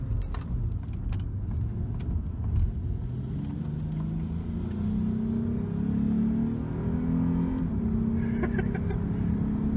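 A 2013 Lexus GS350 engine pulls hard under acceleration from inside the car, a steady loud drone with rising tone over road noise, plus a light jingle of keys.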